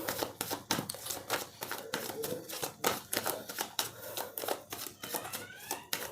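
Tarot cards are drawn, shuffled and handled close up, producing a quick run of papery snaps, flicks and soft slaps that go on throughout.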